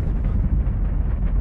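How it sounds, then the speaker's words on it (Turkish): Rocket ignition as a spacecraft lifts off to study gamma-ray bursts: a steady, loud, low roaring rumble with crackling texture, continuous throughout. "Ateşleme başladı ve gama ışın patlamalarını araştırmakla görevli uzay aracı kalkış yaptı."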